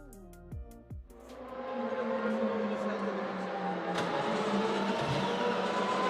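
A BMW M4 GT4 race car engine in a racing video game, lapping Indianapolis: a short rev blip, then a loud sustained high-revving drone as the car accelerates, with gear-change dips, close and steady.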